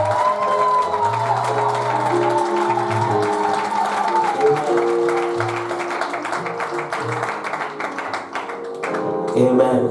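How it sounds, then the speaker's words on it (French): Congregation at a church wedding ceremony in Gatineau claps rhythmically along with loud keyboard music and singing, the sharp claps steady under the melody before a brief louder burst at the close. "Alléluia, on applaudit"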